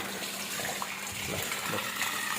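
Water pouring and gurgling steadily into a blue-can household water filter, a constant close splashing flow with no talk.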